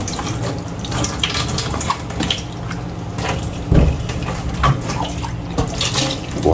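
A kitchen sink tap runs at a slow, steady trickle, close and continuous, with occasional clinks and splashes of dishes being handled under the flow.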